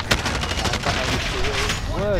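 Rapid gunfire in a video game, a dense spray of shots across the whole stretch, loud and close, with voices and other game sounds mixed in.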